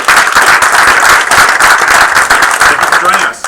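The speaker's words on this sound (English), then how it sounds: "a round of applause to all the teams for the hard work that you've done this semester" An audience applauds continuously and loudly for student game studio teams at a semester celebration. The clapping is dense and sustained, with a faint hint of crowd noise and no break until the end.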